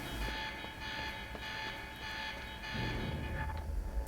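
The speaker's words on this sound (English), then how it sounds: "I gotta go over here to turn off the alarm." An alarm in the video game Quantum Break rings as a steady high electronic tone, sustained and continuous throughout, over low rumbling game ambience and machinery noise.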